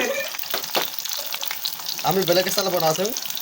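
Onion sizzles in hot oil in a pan with a constant crackling hiss and some stirring, while a voice speaks briefly near the end.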